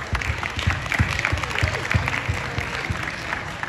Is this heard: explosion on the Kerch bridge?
no